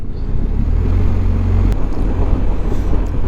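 Motorcycle descending hairpin bends on a Yorkshire Dales road, braking through the turns; a steady low engine drone and wind rumble run throughout, close and loud, with no talk.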